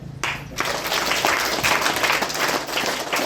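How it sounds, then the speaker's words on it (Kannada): An audience at a school supplies distribution event in Krishnarajapet breaks into applause for a speaker, a dense, loud burst of clapping that starts abruptly and keeps going steadily. "so please give a big hands for sir"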